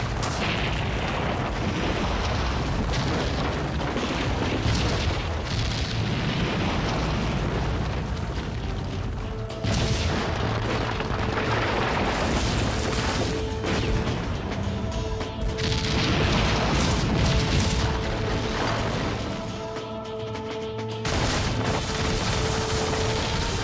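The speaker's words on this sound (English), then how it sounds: "The Sheraton blasts to bits. An impressive dust cloud drifts westward." Demolition blasting of the Sheraton hotel building: a sustained, loud roar of collapse and rumbling debris with steady broadband noise for over twenty seconds, a few brief dips, and faint tonal hums running underneath.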